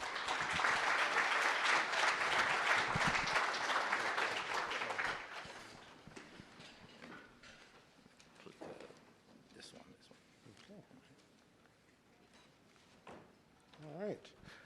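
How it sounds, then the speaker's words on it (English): Audience applause for a speaker at a workplace safety event: a dense, loud wave of clapping for about five seconds that fades abruptly, followed by quiet room noise, footsteps and a brief voice near the end. "Applause, please."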